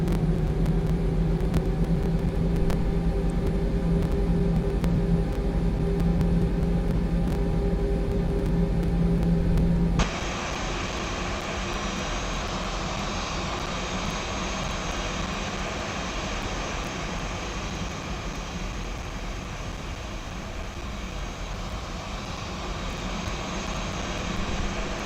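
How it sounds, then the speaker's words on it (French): An Airbus A320 engine running after start in the X-Plane 11 flight simulator, a steady whining drone with a tonal hum that drops abruptly to a broader, even roar partway through, continuous and close. "Et le moteur 2 vient de démarrer sans aucune alerte."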